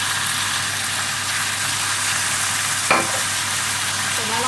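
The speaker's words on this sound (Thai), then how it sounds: "เสร็จแล้วเราก็ผัดด้วยกันนะคะผัดให้เข้ากัน" Beef with yellow mushrooms sizzles in a hot pan while it is stir-fried. The frying is loud and constant from start to finish, with a brief scrape of the spatula near the end.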